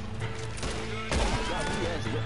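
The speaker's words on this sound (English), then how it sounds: "People shooting at me, like random" Gunfire from the online Western game Red Dead Redemption Online: a sudden volley of loud shots bursts in partway through, layered over steady background game noise.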